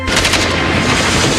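A burst of machine gun fire from an action film, a loud, dense, rapid string of shots filling the whole moment with a booming low rumble beneath, close and unbroken, with no voices over it.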